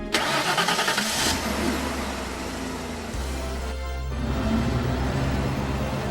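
A truck in a video game starts up and drives off, a steady mid-range engine hum that shifts and rises as it pulls away, with no voices.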